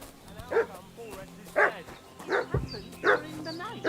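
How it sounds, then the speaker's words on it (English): A dog barks repeatedly in Kingdom Come: Deliverance II, four or five loud, spaced barks at a moderate distance, with a short whimper between them. "What's that dog making such a fuss about?"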